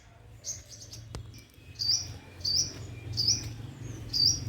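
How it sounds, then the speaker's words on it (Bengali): Birds outdoors chirp in short, bright repeated calls roughly every half second, moderately close, over a low steady background hum with one sharp click early on. "পাখি ডাকছে শুনি।"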